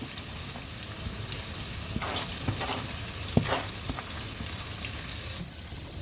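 Two large chopped onions sizzle steadily in hot oil with curry leaves for a carrot stir-fry, a constant close frying hiss with a few clicks of stirring.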